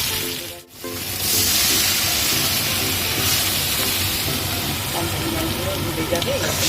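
Water is poured into spiced masala frying in a pan for a posto pomfret curry. After a brief dip, a loud, steady hissing sizzle rises and holds throughout.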